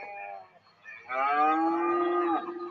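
A cow moos loud and drawn out inside a video game set near a farm, one long low bellow starting after a brief softer lowing, with no talk over it.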